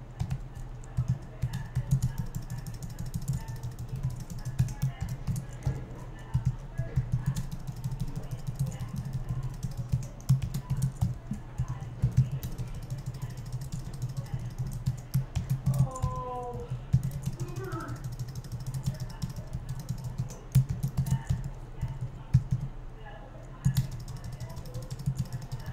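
Keys clatter on a Mac computer keyboard in close, irregular bursts of clicks and taps, typing that continues steadily across the whole stretch with a brief faint voice near the middle.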